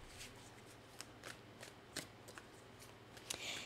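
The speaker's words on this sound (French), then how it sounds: "Je vais aller chercher juste une carte Mystic Moon." Mystic Moon oracle cards sliding and being shuffled, a run of soft papery flicks and riffles in an irregular rhythm, close and quiet, ending in a longer brushing swish.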